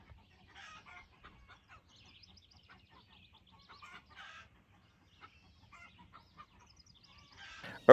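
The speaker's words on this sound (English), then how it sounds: "It's not our goose, it's a wild goose" A wild goose calls outdoors, faint scattered honks and clucks at a distance, then one loud, close honk right at the end.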